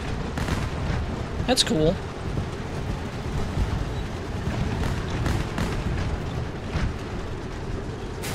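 Artillery-strike explosions in War Thunder, during a match with a Jagdtiger and Tiger II 105, come as a steady run of muffled booms and rumbles over a dense background, with a voice briefly speaking over them.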